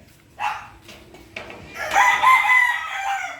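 A rooster crows loudly nearby after a few short clucks and squawks from chickens in a backyard coop.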